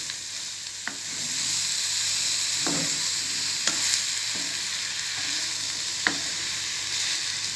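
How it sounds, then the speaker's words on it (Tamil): Thin-sliced mushrooms sauté with a steady sizzle in a pan for a creamy mushroom soup, with several light scrapes and clicks of a spoon stirring, close and alone. "இதுவும் நல்லா இது கூட நல்லா வதங்கி வரட்டும்."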